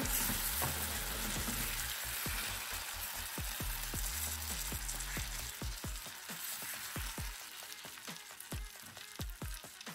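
Tomato sauce sizzling hard in a frying pan, a dense close crackle that thins into irregular popping and spitting bubbles, with no voices.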